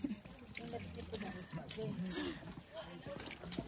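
Water runs from a potable tap at a stop on the Preikestolen (Pulpit Rock) hike in Norway, filling a bottle with a steady splashing trickle, with voices talking over it close by in Tagalog and English.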